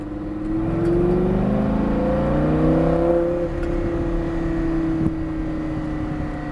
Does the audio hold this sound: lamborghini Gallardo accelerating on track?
yes